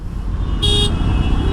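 A car horn honks from behind in city traffic, one short toot over the continuous rumble of engines and road noise, loud and close.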